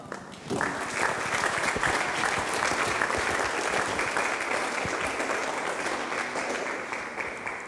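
An audience at a scholarship pageant breaks into applause for the women who organized it, the clapping starting suddenly and holding steady for several seconds before easing slightly.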